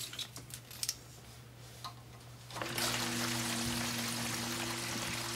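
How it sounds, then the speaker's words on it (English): A sump pump starts up partway through, and a steady rush of water surges through the discharge line past the check valve with a low motor hum underneath, after a quieter stretch of faint ticks. "I can hear water flowing through past the check valve."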